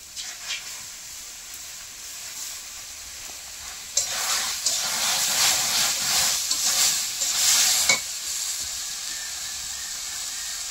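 A raw paste of ground mustard seed, poppy seed and ginger frying in a hot wok, with a soft hiss that swells into a louder, crackling sizzle with scraping stirs midway, then settles.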